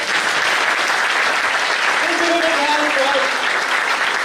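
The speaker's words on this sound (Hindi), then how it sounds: "मैं चाहूंगा खड़े रहकर एक बार सर के लिए जबरदस्त तालियां बजाएं" Standing audience at an awards ceremony applauding loudly for the Mayor of Indore, a continuous dense wall of clapping with a few voices rising over it near the end.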